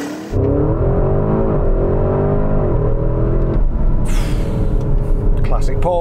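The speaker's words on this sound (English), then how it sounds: "Right, it's time to launch this bad boy." A Porsche Cayenne Turbo GT launching hard from a standstill, its engine note rising steadily and loudly through the gears with a deep rumble underneath, then easing off near the end as a brief chirp follows.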